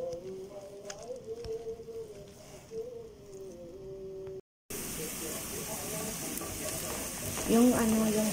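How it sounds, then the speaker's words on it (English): Spinach hisses and sizzles as it sautés in a pan of hot oil, a steady frying noise that runs under a speaking voice and gets louder in the second half. "igisa lang natin yung spinach para sa ating pastries"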